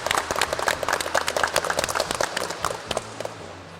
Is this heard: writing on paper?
no